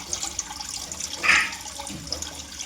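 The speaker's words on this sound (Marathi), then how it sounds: "नळाला पाणी येतं तेवढं कसलं मोठं पाणी येतं" Water gushes from a tap in a strong, steady, hissing stream in a home, swelling briefly louder midway, with faint drips and splashes around it.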